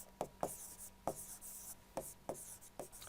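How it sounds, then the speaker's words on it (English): Chalk or a marker writes on a classroom board in short, sharp strokes, about seven or eight distinct taps and scratches in an irregular rhythm. The sounds are close but quiet, with no speech over them. "I will write that here just for you."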